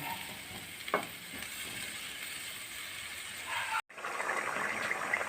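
Chicken mappas curry sauce made with coconut milk bubbles and sizzles in a pan, a soft continuous hiss with faint stirring clicks, briefly cut off near the end before resuming.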